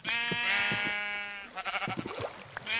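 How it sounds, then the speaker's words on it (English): Sheep in Minecraft give a loud, drawn-out bleat up front, followed by a scatter of shorter bleats and game sounds, with another bleat starting at the end. "I'm killing white sheep."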